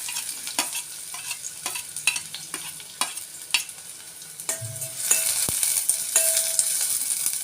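Chopped ginger and onions frying in a pan for a vegetable soup give a soft sizzle under scattered spoon scrapes and clicks against the pan, growing louder and brighter toward the end, with no voices.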